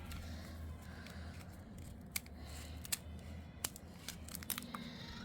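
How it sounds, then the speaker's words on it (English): Scissors cut open an instant snow packet, giving several sharp, close snips spaced over a few seconds against quiet room hiss and low hum. "Let me get the scissors."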